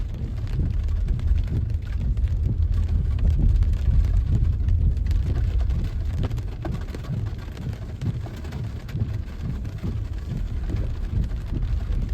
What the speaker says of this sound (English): that was an interesting hailstorm